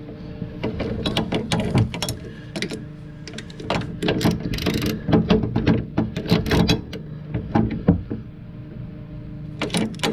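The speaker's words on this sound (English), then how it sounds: "Put the ratchet on." A ratchet tightens a brake light switch on the master cylinder of a VW Beetle. Rapid clicking pawl bursts come in repeated runs, close and fairly loud, with no voices.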